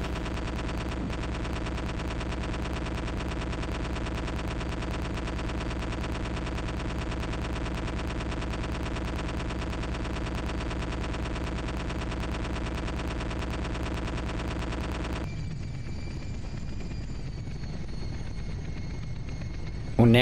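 Rapid, dense helicopter gunfire in the Helicops video game, a continuous loud mechanical rattle over a rotor drone for most of the stretch, then abruptly replaced by a thinner engine hum with a tonal whine.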